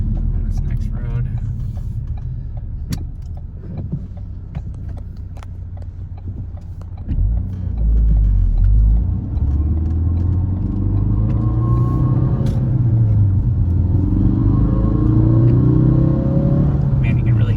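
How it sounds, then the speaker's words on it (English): A Ford Focus RS engine with a new intake rumbles while driving, then builds as it accelerates, with a rising rushing intake airflow noise and occasional voices in the cabin. "Man, you can really hear the airflow."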